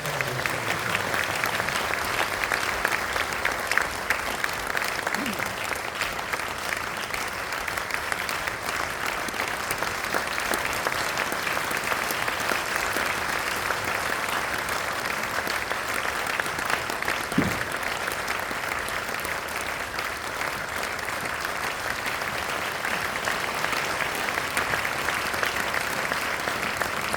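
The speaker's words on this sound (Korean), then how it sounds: "박수로 한번" Sustained audience applause fills a church community center hall during a forum, steady and dense throughout with no break, a faint voice briefly audible beneath the clapping.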